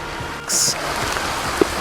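Rain falling outdoors during a break from looking at a classic Schwinn bicycle, a steady soft patter with a brief brighter hiss partway through and a couple of faint drop-like taps near the end.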